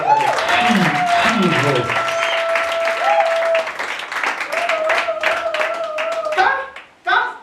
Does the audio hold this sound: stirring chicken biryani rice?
no